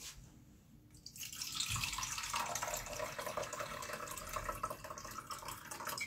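Water poured into a bowl for raw green shchi soup, a steady close splashing stream that starts after a second and runs continuously to the end, no talk.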